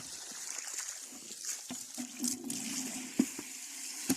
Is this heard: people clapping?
no